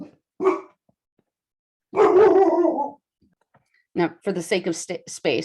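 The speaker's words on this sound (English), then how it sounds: "I apologize about my dog" A pet dog barks a few times nearby, a short yap and then a longer bark, in a quiet room during a maths lesson, followed by someone talking.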